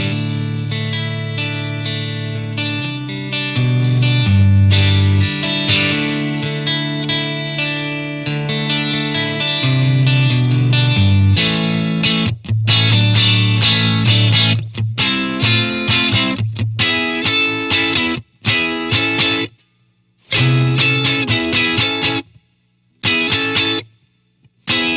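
A distorted electric guitar through a Victory VC35 'The Copper' amp head, AC-style tone, plays chords and riffs, dry with no reverb, loud and continuous before breaking into choppy stabs separated by short silences.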